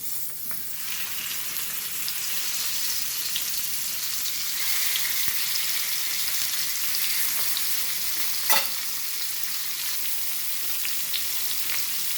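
Hilsa fish frying in hot mustard oil, a continuous bright sizzle that holds steady and close, with a brief sharp pop or clatter partway through and no voices.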